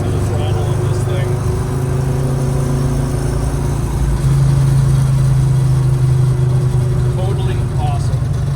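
A 1965 Chevrolet Chevelle Malibu coupe with a 500 hp 454 LS7 big-block V8 rumbles steadily at light throttle while driving, a deep continuous engine drone that swells slightly louder midway, with voices talking over it.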